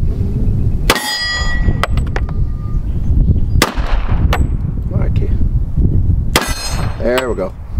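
.45 ACP rounds from a Springfield pistol, loaded with Winchester 231 powder and 200-grain semi-wadcutter bullets, strike steel targets: several loud gunshots, each followed by a sharp clang and a brief ringing tail.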